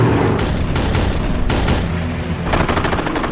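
Japanese anti-aircraft gunfire in a World War II battle documentary, loud dense bursts of rapid automatic fire and booming shots crackling continuously close by.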